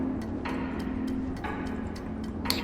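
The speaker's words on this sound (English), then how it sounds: "a clock, like an old grandfather clock sound. The ticking sound." Steady ticking of a grandfather clock in the video game Antichamber, a faint regular tick roughly once per second over a constant low background hum.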